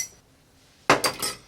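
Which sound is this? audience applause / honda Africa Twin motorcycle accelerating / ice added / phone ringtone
ice added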